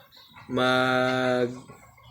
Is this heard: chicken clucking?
yes